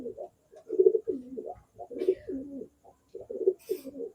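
Repeated low, throaty coos from a female pigeon nearby, arriving in a steady series of rolling phrases with brief silences between them.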